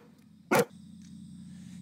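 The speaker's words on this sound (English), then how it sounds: "the dog is coming in." A dog gives a single loud bark midway through as it comes into a room, set against a steady low hum of room noise.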